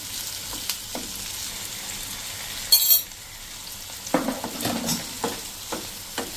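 Four chopped tomatoes sizzle in a hot kadai with a pinch of salt. Stirring brings a soft continuous crackle, one brief loud clatter, then a run of close scraping strokes against the pan.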